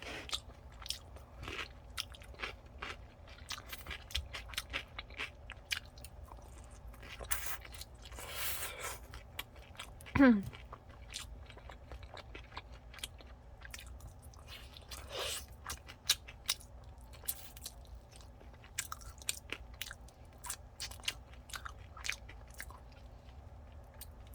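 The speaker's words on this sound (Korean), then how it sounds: "치킨 진짜 맛있네요" Crunchy sweet latte-glazed fried chicken from Mexicana is bitten and chewed close up, with steady crisp crunches and sharp bites over about twenty seconds and no talk.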